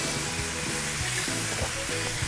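Wine hitting a hot pot of mushrooms for a Cajun crawfish fettuccine sets off a dense, steady sizzle with faint stirring clatter underneath, close up and continuous, no voices.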